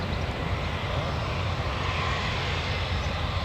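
A Loganair airliner takes off at Newcastle Airport, its engines producing a steady, broad roar heard from a distance across the airfield.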